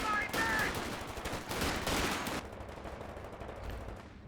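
Machine gun fire crackles in Company of Heroes 2 during a long-range suppression on Obersoldaten, dense rattling bursts that thin out into scattered distant shots under battle noise.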